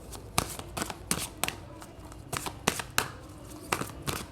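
A deck of tarot cards is shuffled by hand over and over, each crisp riffle and flutter sounding close and distinct in a steady rhythm, with no voices.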